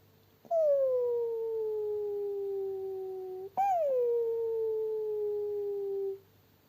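Two long, drawn-out canine whimpering howls in succession, each starting with a sharp rise and then sliding slowly lower, close and clear against a quiet background, as a voice imitates a hunting dog whimpering in a ditch.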